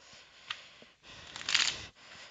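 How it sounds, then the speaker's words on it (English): Soft riffling of a card deck, with a couple of brief flicks and then a fuller ruffling shuffle in a quiet room. "I will do 2 more shuffles."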